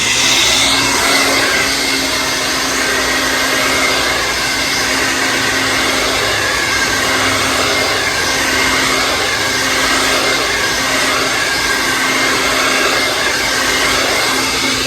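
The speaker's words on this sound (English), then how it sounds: "You put it in, you turn it, and then follow with the blow dryer." A blow dryer runs continuously at close range while hair is dried with a brush, a loud steady whooshing hum with a faint whine on top. No one speaks.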